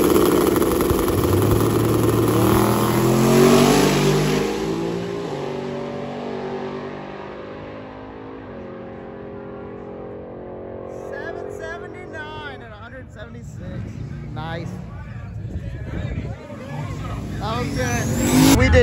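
A Mazda FD RX-7 wearing a Veilside body kit, fitted with a turbocharged LS engine, idles and revs at a drag racing event, its engine swelling and falling under crowd noise and nearby talk.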